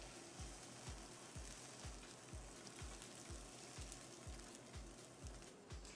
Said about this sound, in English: So now that you have your pan at medium heat, or at 6, you want to put in your eggs.